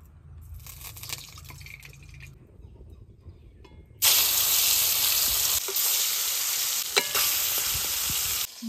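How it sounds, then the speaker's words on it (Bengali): Mustard oil hits a hot wok and breaks into a loud, steady sizzle partway through, after quieter kitchen sounds. The frying continues strongly to the end with a few sharp pops and no speech. "কড়াই গরম হয়ে গেছে, এবার সর্ষের তেল দিয়ে দেবো।"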